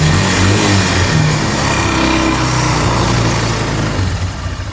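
A broken four-wheeler ATV engine runs and revs steadily, loud and close, with a continuous low rumble and no speech over it.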